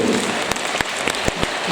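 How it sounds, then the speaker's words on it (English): School hall audience at a harvest festival applauding year 5 and 6 pupils after a poem, a brief burst of dense clapping with a few sharper claps standing out. "A big round of applause for year 5 and 6, please."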